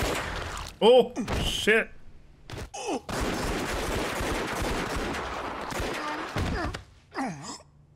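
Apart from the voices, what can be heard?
gunfire, many bullets fired, in the video game Yakuza Kiwami 2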